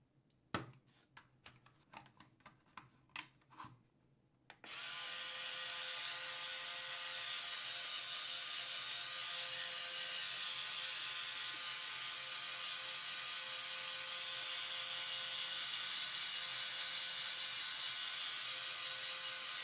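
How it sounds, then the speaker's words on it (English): A LEGO tank's launcher gear mechanism, seven launchers in two rows driven by two large motors: a few sharp clicks and ratcheting ticks, then a sudden, steady, loud motor whir with gear noise that runs to the end. "There are a total of 7 launchers in 2 rows, driven by 2 large motors."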